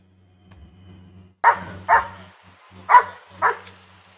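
A police dog barks four times in two quick pairs, loud and close, with a faint low engine hum beneath and no voices.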